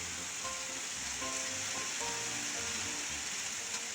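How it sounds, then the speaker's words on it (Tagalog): Heavy rain pours steadily beside a highway in Quezon, a dense continuous hiss with faint scattered tones from passing traffic or nearby sounds, fairly quiet overall. "Kasi po napakalakas po ng ulan"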